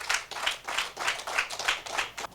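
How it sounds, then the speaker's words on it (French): Applause at a TV news-broadcast event honouring two living human treasures of the Fon community: a small group clapping in a steady rhythm of about eight distinct claps, moderately near, with no talk. "Je vous prie de les applaudir."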